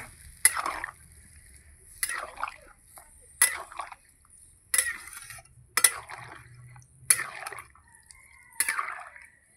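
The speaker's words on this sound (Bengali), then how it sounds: "জল দিয়ে দিলাম। এবার একটু ভালো করে নাড়িয়ে নেব।" A spoon stirs a watery shing fish curry with potato and green banana in a pot, making about seven evenly spaced scraping, sloshing strokes with short pauses between them, close and fairly quiet.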